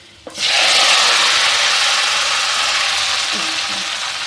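A loud, steady sizzle bursts up as a kilogram of tomatoes hits a hot pan with golden garlic and cumin, frying vigorously for chutney, with faint scraping underneath.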